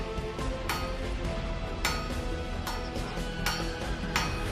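Rhythmic hammer blows ring out on glowing metal on a blacksmith's anvil, one strike roughly every second, over a dense, noisy workshop background.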